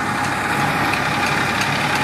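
A tractor engine runs steadily in a rice field, a loud, even diesel rumble held close and constant with no breaks.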